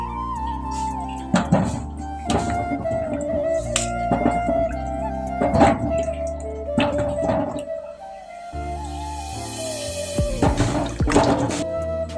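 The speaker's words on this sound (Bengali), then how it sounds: "ভালো করে ধুয়ে নিচ্ছি" Vegetables being washed under running water for a Bangladeshi bean and chicken curry, with a steady stream and intermittent splashing and handling bursts at close range, and no talk.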